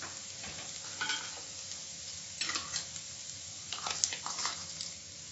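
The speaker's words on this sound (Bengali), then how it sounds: "থেতো করা গোলমরিচটা মিশিয়ে দিচ্ছি।" A spoon stirs crushed black pepper into frying mushrooms and capsicum in a pan, giving soft irregular scraping and clinks over a steady low sizzle, close and fairly quiet, with no talk.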